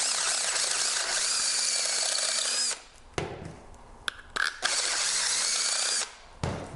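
A power drill fitted with a unibit step bit whines loudly as it enlarges holes in a metal rack. Two sustained bursts of grinding drilling are separated by a quieter gap with a few clicks and short spurts.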